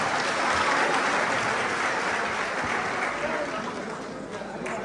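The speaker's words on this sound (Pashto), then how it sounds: "په ویاړ یو چکچک ورته وکړئ" Sustained applause from an audience of Afghans gathered in Paris, a dense steady clatter of many hands that fills the space and eases off slightly toward the end.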